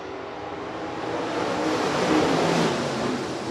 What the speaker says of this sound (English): Joel Viss, Precision Auto Body USRA stock cars set to take the track